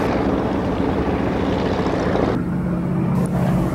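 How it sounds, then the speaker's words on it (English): A North American Harvard propeller aircraft flies over at the Breighton airshow, its engine producing a loud, steady rasping drone. The noise stays continuous throughout and eases slightly toward the end. "The Harvard has a very characteristic sound. This sound comes from the propeller wingtips, which are going at near the speed of sound."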